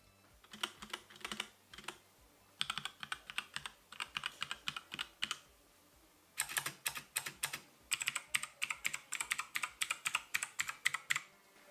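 Fingers type on a HyperX Alloy Core keyboard in quick clattering bursts of keystrokes, broken by short pauses, close and fairly quiet with no voices.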